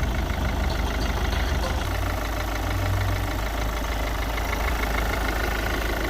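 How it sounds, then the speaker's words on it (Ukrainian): A Volvo V50 1.6 diesel engine idles steadily up close under the hood, a continuous low rumble with a faint ticking texture, no talking. "Ось так працює двигун."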